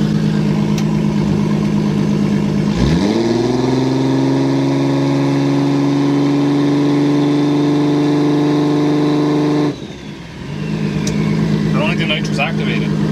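Big-turbo Toyota Supra equipped with nitrous revs on the trans brake: the engine sweeps up sharply and holds a loud, steady high-rpm drone for several seconds, then cuts off abruptly and settles into a rough idle.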